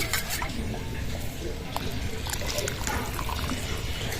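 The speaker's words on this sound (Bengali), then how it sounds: "আমি দুই চামচ ময়দা নিয়ে নেব ভালো করে গুলিয়ে নেব জলের মধ্যে" Two spoonfuls of plain flour (maida) being mixed into ordinary water for steamed momos make a steady wet, sloshing and trickling swirl that runs close and continuous throughout.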